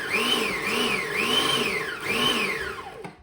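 A blender blitzes pineapple salsa ingredients in steady bursts, its motor pitch rising and falling in three pulses before winding down, loud and close.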